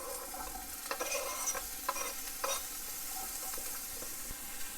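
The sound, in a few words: vegetables added to hot oil in pot, sizzling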